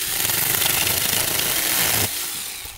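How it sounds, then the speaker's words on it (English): A Tomyvic 6-inch battery mini chainsaw cuts through old dry firewood at a campsite, a loud, close, steady buzzing whine that drops off sharply near the end as the cut finishes. "Portable chainsaw for camping."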